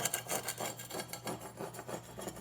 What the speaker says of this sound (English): get all that excess grout and any mortar or even any paint and sheetrock that might be protruding upwards off the surface